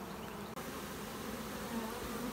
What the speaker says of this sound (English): You can see it's definitely full of bees.